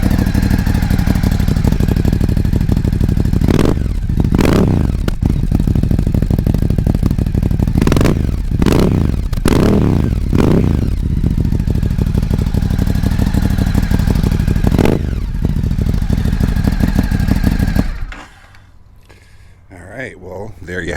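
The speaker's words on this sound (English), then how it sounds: "Sounds pretty good, and then let me give it some throttle." Ducati Scrambler 1100 Sport Pro fitted with a Termignoni exhaust idles loudly close by, then takes a string of sharp throttle blips that rise and fall before the engine cuts off near the end.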